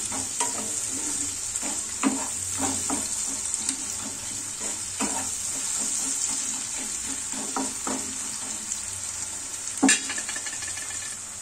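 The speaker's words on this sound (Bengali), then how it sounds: "লবণ দিলে পেঁয়াজটা কিন্তু খুব তাড়াতাড়ি ভাজা হয়ে যায় এবং নরম হয়ে যায়" Onions fry with salt in a pan, giving a soft, steady hiss broken by repeated scraping and tapping strokes of a stirring spoon, quiet and close, with no talking.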